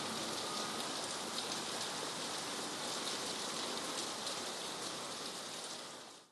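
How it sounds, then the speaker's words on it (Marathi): Steady heavy rain pours down at dawn over the Kalanagar area of Bandra, Mumbai, a dense, unbroken hiss that stays even throughout and fades out at the very end, with no voices. "रात्रभर पावसाची संततधार सुरू आहे"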